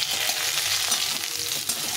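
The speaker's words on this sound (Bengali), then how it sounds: "কম তেলেই পটলটা ভেজে নেব ভালো করে" Pointed gourd (potol) fries in a little oil, giving a dense, steady hiss and crackle up close for a couple of seconds with no voices.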